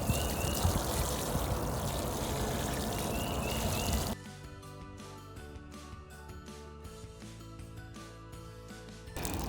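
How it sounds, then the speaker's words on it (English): Water poured through bins of sand and sand mixed with compost in a backyard, a dense rushing pour for about four seconds, then quieter irregular drips and trickles into a container. "let's find out through this pour-through demonstration in my backyard laboratory"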